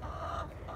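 Hens in a chicken quarantine pen give a soft, brief run of low clucks, quiet and close, with no other sounds around them.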